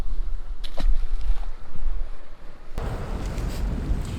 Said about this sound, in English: Hope you don't hear the wind too much. It's pretty cold blowing through here.